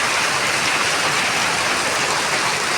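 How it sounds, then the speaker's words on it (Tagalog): Heavy rain pours down steadily outdoors on a road, a dense, loud and unbroken wash of noise that fills the whole stretch, with no voices. "Ito na at malakas na naman ang ulan"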